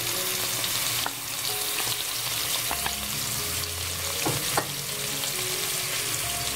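Chopped onion fries in hot oil with cinnamon sticks, a bay leaf and cloves, giving a steady close sizzle, with a few faint clinks as the pan is stirred and no talking.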